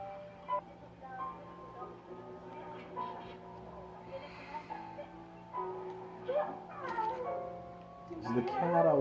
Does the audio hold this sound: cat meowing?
yes